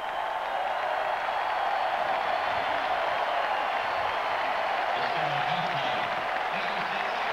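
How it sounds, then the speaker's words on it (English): Sellout overflow crowd at Jack Trice Stadium cheering and applauding the Iowa State Cyclones off the field at halftime of a college football game against Iowa, a steady distant roar with no break. "the sellout overflow crowd at Jack Trice Stadium will cheer the Cyclones into the locker room"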